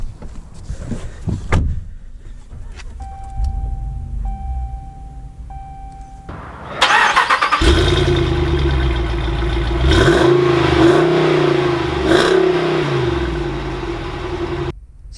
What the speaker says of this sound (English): let's take this 2020 Power Wagon out to see how it drives